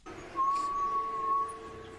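A faint, strange whistle drifts from far off in a horror video game: one thin, steady tone that holds for about a second over a low, murky ambient hum.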